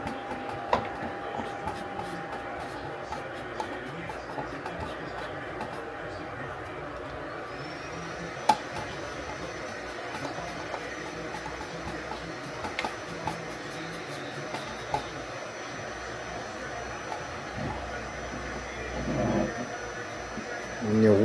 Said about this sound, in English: You guys could probably hear my printer in the back.